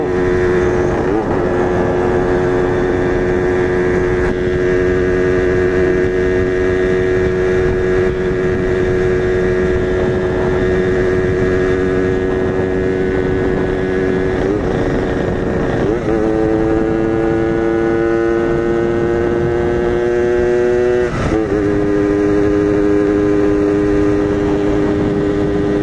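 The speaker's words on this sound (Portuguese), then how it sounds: "RD do Gustavo, uma 135. É, o motor acabou de montar, então nós não vamos acelerar, né?" A freshly rebuilt Yamaha RD 135 two-stroke motorcycle idles steadily without revving, a close, continuous buzzing drone that shifts pitch slightly a few times over about half a minute.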